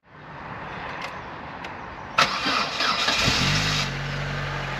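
A Corsa whose battery had gone stone dead cranks and catches. Its engine turns over loudly up close and then settles into a steady low idle with no talking.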